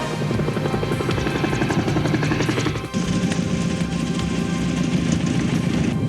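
A loud, continuous roar of an airplane engine on the ground just after landing, with a rough, pulsing mechanical drone that dips briefly midway and then resumes at full strength.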